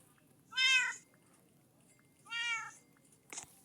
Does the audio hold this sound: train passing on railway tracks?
no